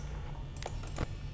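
A few quick computer mouse clicks during a game of Five Nights at Freddy's, close and crisp, come as a short cluster of light taps over a steady background hum.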